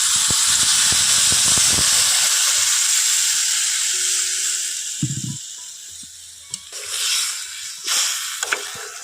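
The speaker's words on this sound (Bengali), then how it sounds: "এখন আমি এখানে দিয়ে দিচ্ছি জল" Water poured into a hot pan of fried potatoes in a Bengali village-style fig dish erupts in a loud, hissing rush of steam that gradually dies down, with faint stirring clatters afterward.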